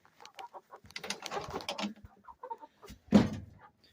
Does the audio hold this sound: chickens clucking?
yes